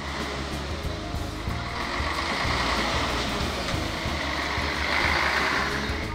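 Trucks and cars on the Mai Mahiu escarpment road in Kenya, a heavy engine rumble with rhythmic low pulsing and broad road noise, swelling as vehicles pass nearby.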